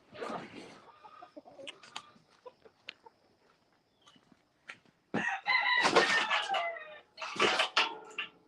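A rooster crows loudly close by from about five to eight seconds, a long harmonic call preceded by quieter farmyard noises and clucks, with no talk over it.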